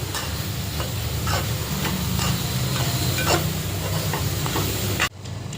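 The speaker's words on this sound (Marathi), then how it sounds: "त्यामध्ये टाकायचं आहे एक चमचा भरून असं अमूल बटर छान मिक्स करून घ्यायचं आहे" Momo vegetable filling being stirred with Amul butter in a pan, a continuous loud sizzle and hiss broken by repeated spoon scrapes and taps against the pan, all close up with no talk.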